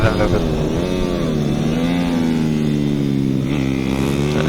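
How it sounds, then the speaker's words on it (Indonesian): A racing underbone four-stroke motorcycle, a Yamaha Jupiter Z, has a faulty engine with a loose coil cable or a detached jet. It drones loudly and unevenly close by, with a wavering pitch that dips and recovers during a fun race at a small circuit. "Kalau dari suaranya kayak kabel coil kendor atau spuyer lepas tuh, suara kayak gitu."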